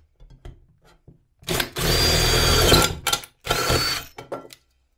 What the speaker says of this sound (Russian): Просверлю.